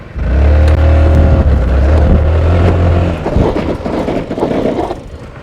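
A Honda Forza 350 scooter accelerates toward about 60, its engine hum loud and close at first and then giving way to rougher, choppier road and wind noise.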